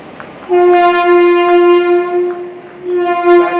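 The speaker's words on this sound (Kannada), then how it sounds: "ಪ್ಲ್ಯಾಟ್ಫಾರ್ಮ್ 5 ಇದೆ ಟ್ರೈನ್ ಇದೆ." An express train's horn sounds in one long, loud, steady blast at a railway station platform, pausing briefly and then resuming, over a low rumble of station background.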